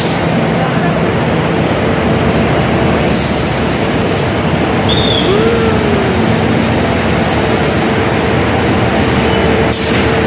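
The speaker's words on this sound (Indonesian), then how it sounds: "Kereta Kedung Sepurnya sudah datang guys." Kedung Sepur passenger train arriving at a station, a continuous loud rumble of rolling wheels with intermittent high metallic squeals from the rails, heard up close.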